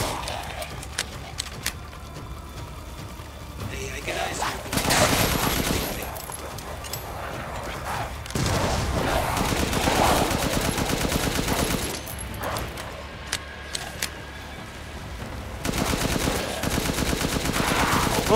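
An assault rifle in Resident Evil Village fires repeated rapid bursts, loud and close, broken by short pauses, with a voice talking in between.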